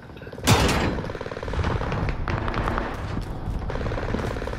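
A revolving gun fires in a video game: one sharp loud shot, then a busy stretch of mechanical clatter and thumps amid game noise, close, with no talk.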